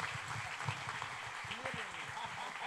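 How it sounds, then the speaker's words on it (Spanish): A church congregation claps in welcome for a visiting preacher, a dense spread of applause at moderate level, with a voice speaking over it and some shouts mixed in. "le dé una muy cordial bienvenida con un aplauso a nuestro amigo Daniel Piñero"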